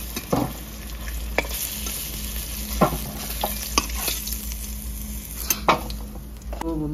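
Fish frying in oil in a village kitchen, a continuous sizzle with sharp clacks of a utensil stirring and scraping the pan at irregular intervals, close and fairly loud, with no talking.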